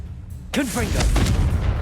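Spell blast explosion from the Confringo fire spell in the video game Hogwarts Legacy, a sudden loud burst followed by a short crackling, whooshing tail, with game voices or effects layered over it.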